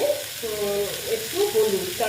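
Katoa data stalks with salt, green chilli and turmeric being stirred in a frying pan, a steady close sizzle with soft scraping and shifting as the vegetables are moved about.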